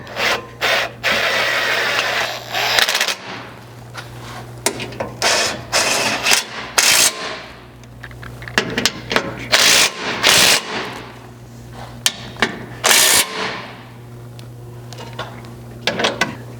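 Hex bolts being tightened on an engine skid plate under a Ford Maverick: irregular bursts of ratcheting and metallic clicking, with short pauses between turns, close and fairly loud, over a steady low hum.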